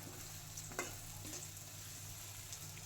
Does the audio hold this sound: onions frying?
yes